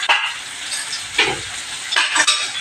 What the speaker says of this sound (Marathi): कांदा आपला चांगला परतून होऊन दे